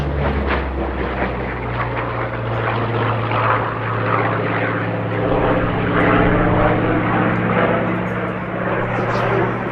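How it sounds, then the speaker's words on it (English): A loud, steady roar of a Hawker Fury warplane fitted with a Wright R3350 radial engine, droning continuously throughout with a deep rumbling tone. "This aircraft, powered by a Wright R3350 rather than the type's original Bristol Centaurus engine"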